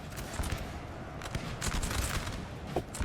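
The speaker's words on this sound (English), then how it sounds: "That was a nice volley, though." Musket volleys crackle through a large Napoleonic battle in Napoleon Total War, Prussian lines against the French, heard as a dense, continuous rattle of gunfire with sharper bursts scattered across the span.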